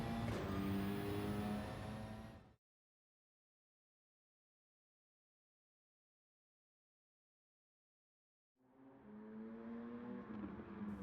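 A tuned Ford Focus Gr.B rally car in Gran Turismo 7 revs loudly and close for about two seconds, cuts to complete silence, then returns with a rising engine roar near the end.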